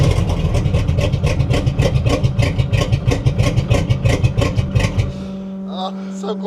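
A car engine cranks over with a loud, fast rhythmic churning on the starter for about five seconds, then settles into a rough, steady tone as it briefly tries to catch and idle.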